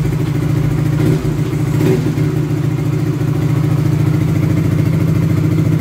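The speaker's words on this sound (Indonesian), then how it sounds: "Untuk suara kita gas sedikit aja ya." A fuel-injected motorcycle engine with a freshly cleaned throttle body runs loud and close, with a light throttle blip in the first two seconds before settling into a steady, even rumble.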